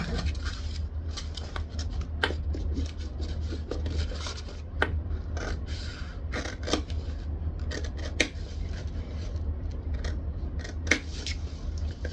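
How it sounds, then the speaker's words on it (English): Scissors snip loose jump stitches on printed waterproof canvas, with a run of sharp, close snips spaced irregularly over steady low background noise and no talking. "I'm going to trim those jump stitches and then grab some scissors, fold it over, pinch and snip."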